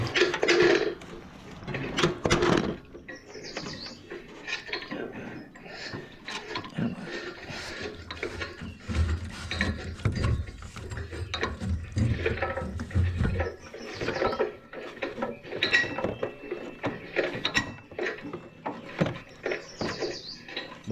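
An old, weather-cracked drive belt is worked by hand onto the top pulley of a Troy-Bilt Pony tiller, giving irregular clanks, ratcheting clicks and metallic rattles in close bursts, with no voices.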